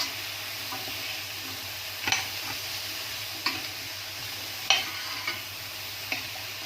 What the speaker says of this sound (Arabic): واستمر في التقليب. هلاحظ ان لون الفاصوليا هيبدا يغير